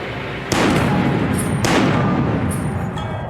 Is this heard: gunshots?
yes